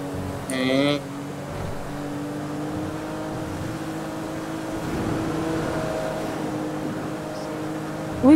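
A heavy vehicle's engine drones steadily in a video game, a low continuous hum with a brief louder burst near the start, while players talk over it.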